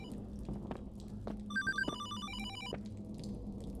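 A telephone rings in the horror video game Hollowbody, its bright electronic trill repeating in a short burst over a low ambient hum, with soft footsteps-like knocks around it and no speech.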